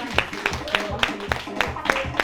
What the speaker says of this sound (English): now clap for yourself